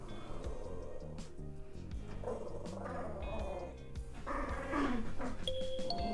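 A dog growls and grumbles while tugging on a toy indoors, low rumbling bursts close to the microphone with a few sharper yips near the end.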